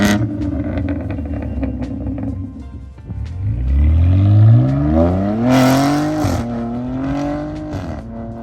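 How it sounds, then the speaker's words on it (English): A BMW M4 fitted with a Remus race exhaust revs loudly and close by, its note climbing and falling in sweeping pulls, with sharp pops and cracks between revs. "You do get the nice sort of pops and the cracks on gear changes."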